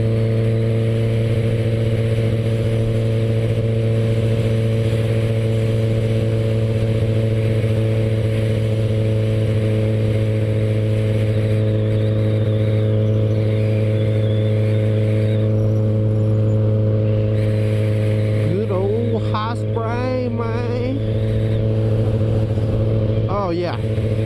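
A 2016 Kawasaki ZX14 motorcycle engine drones steadily while riding, with a sustained loud hum that rises briefly near the end; someone talks over it.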